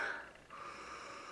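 A person sniffs a holiday-scented product close to the microphone, a short nasal inhale followed by a longer drawn breath, faint and alone.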